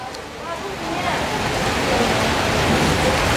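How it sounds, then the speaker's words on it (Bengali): Heavy rain pours down in Malaysia, a loud, dense, steady hiss that swells slightly, with a voice speaking briefly over it at the start. "এই দেখেন বৃষ্টি"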